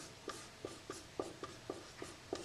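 Hand-writing a math problem, likely pen or marker on paper, makes a quick series of light scratchy strokes in an irregular rhythm, close and quiet, with no talking.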